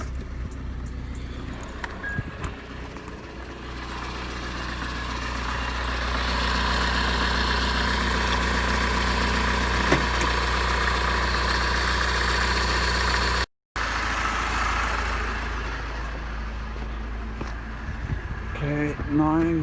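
A Honda 2.2 i-CTDi diesel engine idles steadily while warming up, a low, even rumble, cutting out briefly before resuming, with faint clicks near the end.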